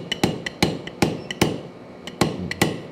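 A hammer striking hot metal held in a vise at a forge, about eight sharp ringing blows at a steady, unhurried rhythm, close up and loud with no talk.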